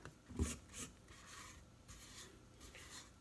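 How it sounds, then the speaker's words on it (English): Dry ingredients being stirred into pumpkin cake batter in a pan, a soft steady scraping and rubbing with a couple of firmer strokes near the start, close and fairly quiet. "we're going to stir in our dry ingredients that we whisked together a little while ago"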